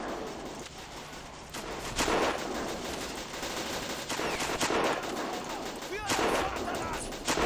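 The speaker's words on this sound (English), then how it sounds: "So we should be pinning down the French with these machine guns." Machine guns rattle in rapid bursts in the World War I strategy game Battle of Empires 1914-1918, with scattered rifle shots and distant artillery booms mixed into a continuous battlefield din.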